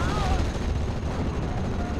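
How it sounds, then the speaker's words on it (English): Wurfrahmen rocket launcher in the strategy game Steel Division: Normandy 44 firing a salvo at rifle infantry on the Odon map, a dense continuous rumble of launches and blasts with low booming weight, sustained through the stretch alongside voice commentary. "I've now brought up a Wehrflammen, and that's going to be launching its rockets towards these rifles"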